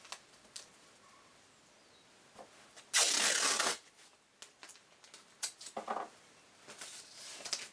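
Strips of masking tape pulled and laid out, then scrap wooden boards set down on it, with one loud rasping tear of tape midway and scattered soft knocks and taps of wood around it, close and without talk.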